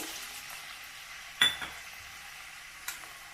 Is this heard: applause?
no